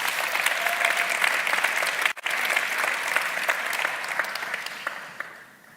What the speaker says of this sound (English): Please give a round of applause to our special guest on Facebook.